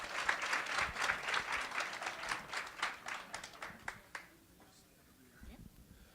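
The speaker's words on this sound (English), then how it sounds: "give him a round of applause again" Audience applause at a congressional advocacy day event, a dense spell of clapping for about four seconds that thins out and fades to quiet room tone.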